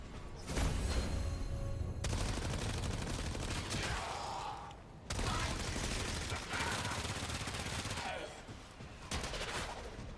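Repeated pistol fire from the Azuma in an old MMO, loud dense bursts of shots with brief breaks, a short gap midway before the firing resumes, and a voice talking faintly underneath.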